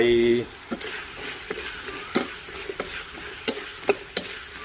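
Onion stir-fried in a wok with shredded ginger and fried dried chilies for cashew chicken: a brisk, continuous sizzle broken by sharp spatula scrapes and clacks, after a brief voice at the start.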